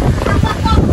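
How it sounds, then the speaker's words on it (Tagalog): Strong wind at Basiao Baywalk in Padre Burgos, Quezon, roars and buffets the microphone loudly through the whole second. "Lakas ang hangin, oh, see, kita mo."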